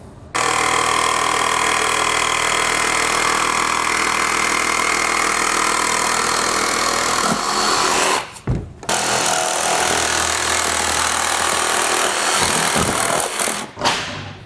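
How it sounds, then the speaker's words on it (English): A jigsaw cuts across an RV roof to punch out the opening for a MaxxFan Deluxe roof vent, a loud, steady buzzing rasp that runs almost continuously, with a brief stop near the end of the cut and another just before the end. "take our jigsaw down through our holes that we cut and start cutting across to punch out our hole"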